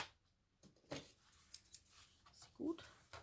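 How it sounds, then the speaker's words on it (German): Small scissors snip paper during creative journaling with a few faint, quick cuts close by, set apart by soft handling noises in a quiet room. "muss mir mal eine größere Schere hinlegen."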